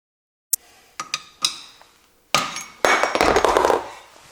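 A small screwdriver tapping a brake dust cover off an MGB, several sharp metallic taps followed by a louder burst of scraping, clinking metal handling close by.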